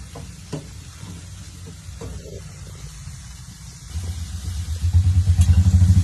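Brinjal dropped into a hot pan gives a moderate, even sizzle. A low droning hum swells and grows louder toward the end, partly masking it. No one speaks.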